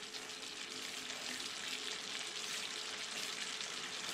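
Beans, tomatoes and sesame stew in a pan, giving a steady, soft, close sizzle and bubbling hiss that runs evenly and without a break.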